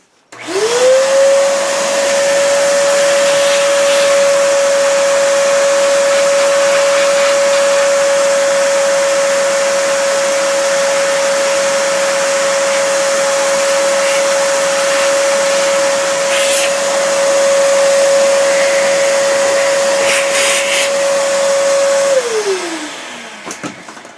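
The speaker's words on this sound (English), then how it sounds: "I gotta get the vacuum fired up." In a gunsmithing workshop, a vacuum cleaner spins up with a rising whine, holds a loud, steady motor drone for about twenty seconds, then winds down as it shuts off.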